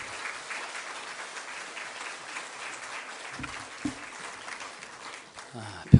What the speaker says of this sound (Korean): 나오실 때 우리 힘찬 우리 박수로 우리 목사님 맞겠습니다.